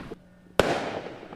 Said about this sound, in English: illegal fireworks still lit up the sky in some cases